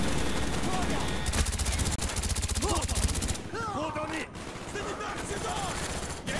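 Rapid automatic gunfire from the Call of Duty Black Ops campaign crackles in dense, loud bursts, mixed with game effects and whooshing tones.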